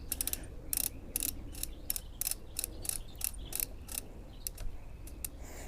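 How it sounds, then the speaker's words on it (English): Ratcheting knob on the rear suspension of a 2001 Giant XTC NRS 1 mountain bike being turned, giving a run of crisp, close clicks in an uneven rhythm over a low background hum. "as I rotate this knob, you can see it kind of cranking down"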